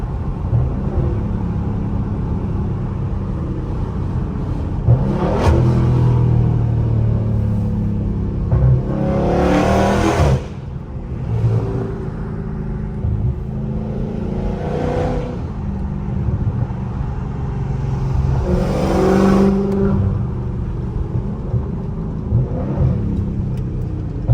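A Scat Pack car engine rumbles and revs repeatedly through downshifts, pitch rising and dropping, heard from inside over steady road noise.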